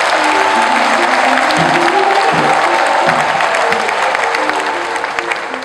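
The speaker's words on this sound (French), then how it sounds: "Applaudissez fort pour eux." Loud, dense applause from a large crowd at a diocesan pilgrimage Mass, steady throughout and tapering off slightly toward the end.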